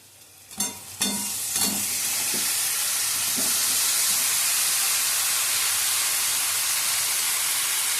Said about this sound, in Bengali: এটা আমি ততক্ষণ কষবো যতক্ষণ না আমার তেল ছাড়ে